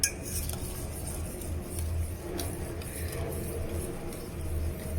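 A utensil stirs keto ube cupcake batter made with coconut flour in a bowl, giving faint, steady scraping with light clinks of metal against the dish. The sound stays quiet and close throughout.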